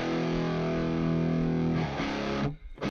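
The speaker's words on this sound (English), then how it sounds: "that crackly sort of sound that you're hearing, that amp distortion" Crackly amp distortion rings out as a loud, buzzing sustained tone for about two seconds, then breaks up and cuts off abruptly into near silence with a few faint sputters at the end.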